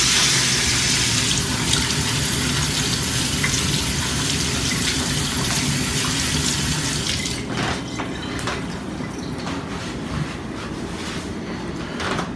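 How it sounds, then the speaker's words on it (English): Hands rinsed under a running tap while preparing St. Louis style ribs: a steady close rush of water for about seven seconds, then quieter splashing and dripping as the flow changes, with no talking. "Give my hand a quick rinse here."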